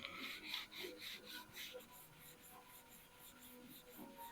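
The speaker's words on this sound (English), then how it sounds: "Now I'm not putting hardly any pressure on this sanding block. I'm literally letting the sandpaper do all the work for me." A sanding block with 600-grit sandpaper rubs over car paint in repeated light strokes, a soft rhythmic rasping that is close and fairly quiet, slowing toward the end.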